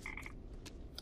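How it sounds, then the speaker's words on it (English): Frogs croak in the video game Papo & Yo, with a few short croaks near the start and brief calls later over a steady low ambient bed. "Lots of frogs."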